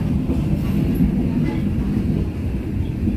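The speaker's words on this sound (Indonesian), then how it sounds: "Enak banget sih duduk di kereta makan pembangkit ini" Passenger train rumbling along, heard from inside the generator dining car right behind the locomotive, a loud steady low roar with faint rhythmic wheel clatter and no talking.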